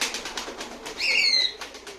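Tumbler pigeons in a coop give soft coos, followed by a brief burst of wing flapping, close by and with no one talking.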